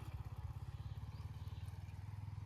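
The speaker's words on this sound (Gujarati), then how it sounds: "આજે તો જુઓ માહુ જાય છે બાઇક લઈને" A motorcycle engine idles nearby with a steady low, pulsing throb and even rhythmic beats throughout, starting from a village home.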